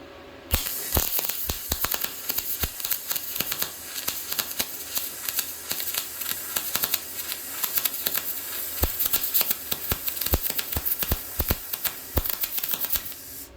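A YesWelder MIG-205DS MIG welder lays a bead, giving a dense, continuous crackling spatter with sharp pops throughout, close and fairly loud, with no talking.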